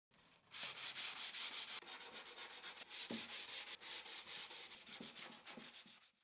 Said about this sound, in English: Now I'll sand manually using 2-20 grit sandpaper.